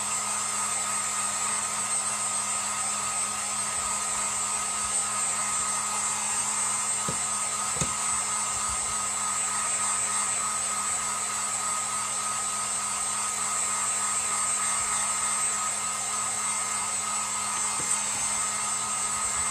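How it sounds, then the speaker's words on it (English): Heat gun blowing hot air to dry craft material ahead of hot gluing, a steady continuous whooshing drone with a constant hiss that runs the whole time, fairly close and unbroken, with a couple of faint knocks partway through. "So I'm going to take my heat gun and I'm going to dry this a little bit before I put on my hot glue."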